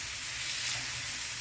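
Minced garlic sizzling in a cast iron pan while being mixed, a short bright steady hiss heard up close and fairly quiet, no talking.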